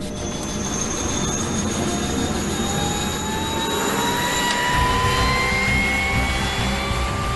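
An Indian Army aviation helicopter roars steadily with a continuous whining turbine tone and engine rumble, loud and sustained throughout with no talk.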